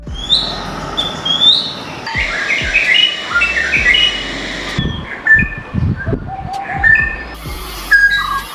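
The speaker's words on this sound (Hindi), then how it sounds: "ये बर्ड एक नहीं बल्कि 6 अलग अलग तरह की आवाजें निकाल सकता है।" Varied bird calls, chirps, whistles and short trills, repeating close by in an outdoor setting, with no talking.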